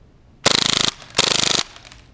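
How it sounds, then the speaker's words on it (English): A KWA MAC11 airsoft gun firing full auto at about 30 rounds a second: two rapid, loud bursts of evenly spaced mechanical clacks, each about half a second long, close by, with a short pause between them and no talking. "Now we're gonna fire it on full auto"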